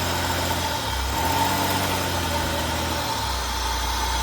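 Steady engine drone from a 2000 Buick LeSabre under brake torque, held at a constant raised level with a low hum and slight shifts in pitch. Nobody talks over it.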